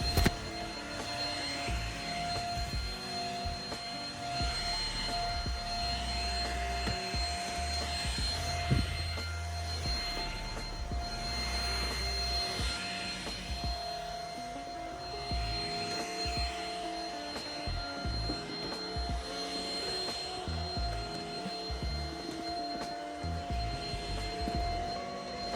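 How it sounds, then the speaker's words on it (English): A vacuum cleaner runs across household floors, a continuous whining drone with a low rumble that holds steady for the whole stretch, with no one talking. "I'm telling you that this vacuum cleaner is not all that"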